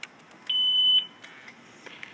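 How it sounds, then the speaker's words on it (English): A new motorcycle's alarm gives a single steady electronic beep about half a second long as it switches off, clear and close against a quiet background. "That was the alarm turning off."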